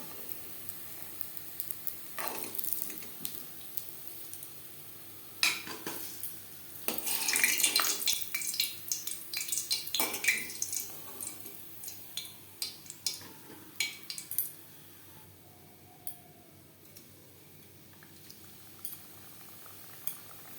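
Goja pastries of fried dough frying in hot oil, a steady soft sizzle with crackly bursts and occasional clinks of a metal utensil against the pan, close by and with no talking.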